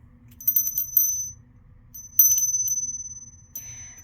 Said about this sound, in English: And then group number 4 is the mini bell.